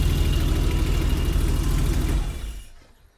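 BMW E30 325i with the M20B25 straight-six idling steadily and loud up close, a low throbbing rumble that cuts off when the engine is switched off, decaying into near silence.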